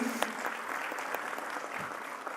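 Audience applause for a team at the MEWA 2025 grand inauguration, a lamp-lighting and ribbon-cutting ceremony: dense, steady clapping from a crowd filling the room, fairly even throughout with a few sharper individual claps.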